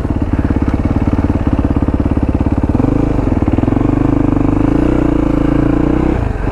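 A motorcycle engine runs loud and close while riding, pulsing steadily and then revving up into a sustained higher drone before cutting back.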